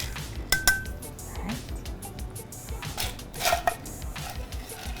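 Ice clinks and rattles against glass in quick, uneven bursts as a drink is stirred, with faint background murmur.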